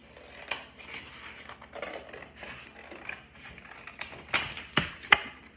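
Scissors cut through a layer of paper card in a string of short snips, faint at first and then sharper and louder toward the end, with no talk.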